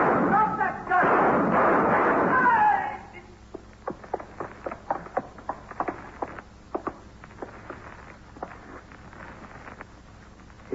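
Gunshots in a vintage detective radio drama, a burst of loud shouting and noise first, then a series of sharp, uneven gunshot cracks spaced irregularly over several seconds, fairly close.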